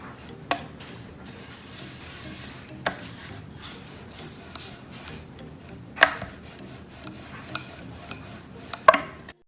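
A rolling pin works a large, very thin sheet of floured dough for Indian chirota pastries, a continuous soft rubbing roll with occasional sharp knocks of wood on the board, close by.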